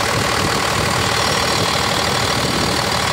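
A 1989 Dodge D250 diesel truck engine idles steadily and loudly up close, a constant rough low rumble with a faint knocking clatter running through it, with no talking.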